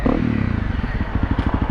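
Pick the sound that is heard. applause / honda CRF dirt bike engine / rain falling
honda CRF dirt bike engine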